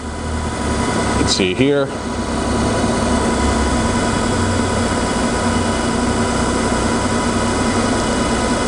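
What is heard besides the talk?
Okamoto OGM-820UB cylindrical grinder work head running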